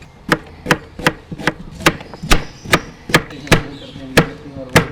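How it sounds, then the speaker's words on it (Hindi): A knife chops cabbage, carrot, turnip, bell pepper and beetroot on a board for homemade soft bird food, making about a dozen sharp, evenly spaced close chops with no talking. "और इस तरह काटने के बाद मैं अभी सब्जियां काटने लगा हूँ।"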